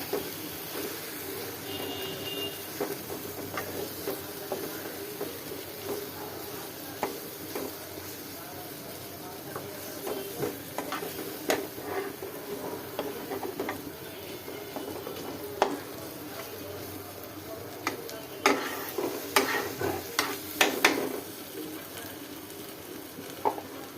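Raw banana mash being cooked with a tempering of spices such as panch phoron, heard as a faint, quiet sizzle with intermittent stirring and utensil clinks, and a voice speaking softly at times.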